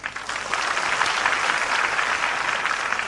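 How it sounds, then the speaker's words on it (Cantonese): Steady, dense applause from an audience at a Cantonese stand-up comedy show, sustained and fairly loud throughout with no speech over it. "中意李小龍嘅拍拍手聽下好唔好啊？"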